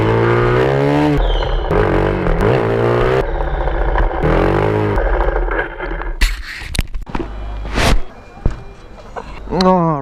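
Suzuki Gixxer motorcycle engine revving nearby, its pitch rising and falling in several throttle blips with harmonic whine, mixed with people talking and some clattering handling noises.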